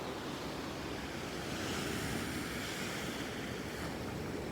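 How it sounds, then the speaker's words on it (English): Ocean waves surge and wash over a jetty at high tide, a steady, loud roar of surf with wind buffeting the microphone. "As you can see, the waves are literally covering that."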